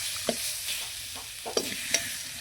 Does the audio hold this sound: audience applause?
no